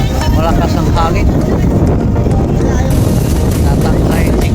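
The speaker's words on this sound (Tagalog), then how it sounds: "Malakas ang hangin." Strong wind buffeting the microphone at a hilltop people's park in Tagaytay, a loud, steady roar with gusty low rumble throughout, nearly drowning out faint background voices.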